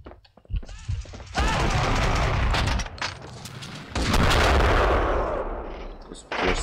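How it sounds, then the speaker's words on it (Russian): Loud shotgun blasts from an enemy in Max Payne 2: The Fall of Max Payne, two heavy booming bursts with sustained rumbling tails between quieter gaps. "выстрелы. Это, походу, он из дробовика пальнул."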